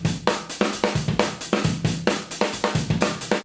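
A drum kit played loudly and steadily, with repeated heavy hits landing about every quarter second in a driving groove, close and full, with no voices.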